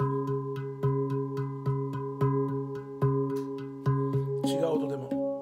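A handpan struck with alternating hands on its central ding, a clear ringing metallic tone repeating in an even pattern of notes, with a brief higher scraping flourish near the end; close and moderately quiet.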